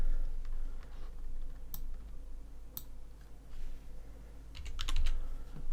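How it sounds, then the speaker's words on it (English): Fast, irregular typing on a computer keyboard, used to enter a name with a text tool in ZBrush jewelry design software; the key clicks come in short bursts, close and fairly soft over a low room hum. "grab our text tool, just put that in there, and type Adriana"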